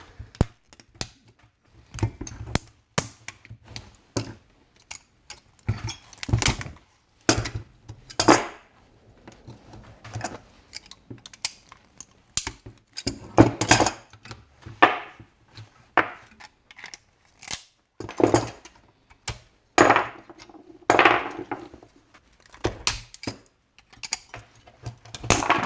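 Channel lock pliers pick off spot welds on a Ryobi OP4026 power tool battery pack, making irregular sharp metallic clicks, snaps and scrapes close up, in scattered bursts with short pauses between them.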